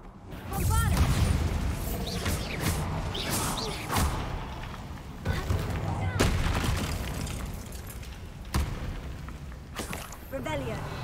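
Repeated Bombarda blasting spells cast in Hogwarts Legacy, a series of booming impacts and crashes spread through the stretch, mixed with game effects and voices talking over them.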